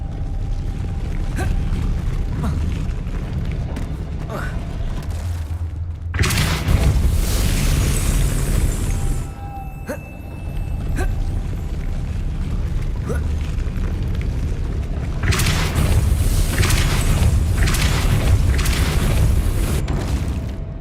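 A Depulso spell blast in the Hogwarts Legacy video game: a loud, broad whooshing burst starting abruptly and holding for a few seconds, followed later by a second sustained blast, over a steady low game-ambience rumble.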